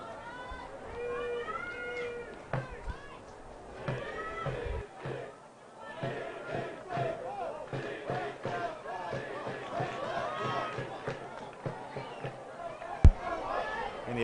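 A high school boys soccer state semifinal crowd, with the CBC Cadets student section cheering and chanting at moderate distance, a steady roar of many voices with rising and falling shouts and a sharp bang near the end.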